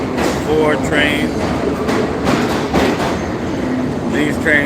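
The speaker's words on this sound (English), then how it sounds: "These trains are heading to Brooklyn." A subway train in Brooklyn rumbles loudly and steadily, with clattering and metallic squeals over a heavy low roar throughout.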